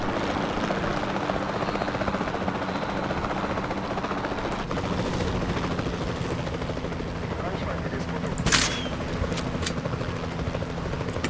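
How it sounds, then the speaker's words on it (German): A helicopter flying in the dinosaur park game Jurassic World Evolution 2, a steady, loud rotor thrum with a chopping pulse that runs throughout, with a brief sharp clatter near the end. "Hubschrauber zittert ein bisschen."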